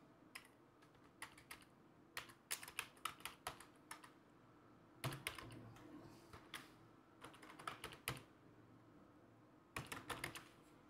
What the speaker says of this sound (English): So type in a valid email address.